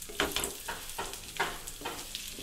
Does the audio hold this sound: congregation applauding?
no